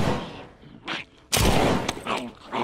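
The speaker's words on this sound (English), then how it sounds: "We'll practice the shooting too." Gunshots fire in the video game The Walking Dead: Saints & Sinners, with a couple of sharp loud bursts and a heavier blast in quick succession, with no talking.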